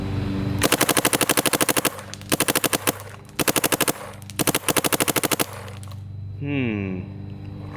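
A paintball marker fires rapid bursts at 15 balls per second, fed from a hopper on a closed course: five tight, loud strings of evenly spaced shots with short pauses, then a brief mechanical whir.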